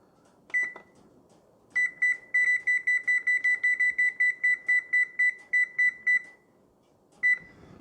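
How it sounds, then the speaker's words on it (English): A kitchen oven timer set for baking keto coconut-flour chocolate chip cookies beeps: a single beep, then a long run of evenly spaced rapid beeps, then one more, loud and close. "Here, set my timer."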